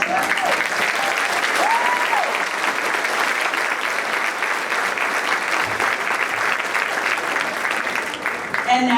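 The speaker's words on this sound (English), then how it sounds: "have us all give you a round of applause" Sustained audience applause fills a high school honor cords ceremony, a dense, steady clapping from a large crowd that holds evenly for several seconds.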